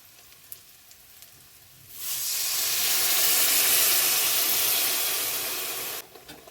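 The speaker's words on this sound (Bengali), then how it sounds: "এবারে দিয়ে দেবো সামান্য জল" Water hits a pan of well-fried spiced masala for a Bengali pabda fish curry, bursting into a loud, steady steam hiss that swells for about four seconds and then cuts off abruptly.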